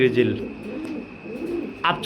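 Grizzle pigeons coo in soft, low, throaty phrases close by, with someone talking over and between the calls.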